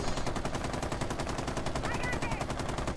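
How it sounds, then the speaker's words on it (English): Rapid automatic gunfire from Rainbow Six Siege gameplay, a dense continuous stream of shots at steady loud level throughout, with faint voice chat mixed underneath. "Jalen, is that you shooting?"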